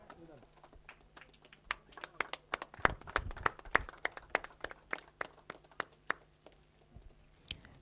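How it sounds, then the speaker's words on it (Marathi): Scattered hand clapping from a small crowd at a cricket tournament presentation ceremony, uneven and sparse rather than a full ovation, with voices audible around it. "टाळ्यांचा गजर सुशील बुर्लेसाठी होऊन जाऊ द्या."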